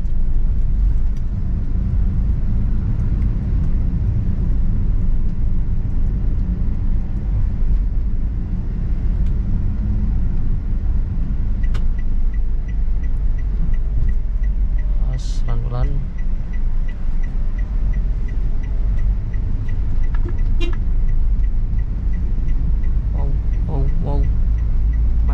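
A Toyota Calya drives on a public road in third gear, with a steady engine and road rumble heard from inside the cabin, plus a few faint clicks and ticks; a voice talks over it.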